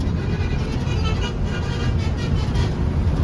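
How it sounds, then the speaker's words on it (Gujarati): Heavy traffic on a busy highway near Mahudi village, heard from inside a loaded truck: a dense, continuous roar of engines and tyre noise that never lets up. "ભાઈ આ રોડ ઉપર બહુ ટ્રાફિક છે"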